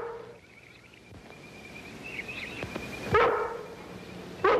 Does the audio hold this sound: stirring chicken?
no